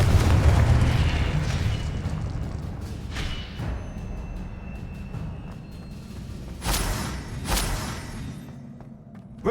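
The Confringo explosive spell blast from the video game Hogwarts Legacy, a loud rumbling boom that decays slowly into a low roar, followed by sharper crackling bursts near the end, with no talking.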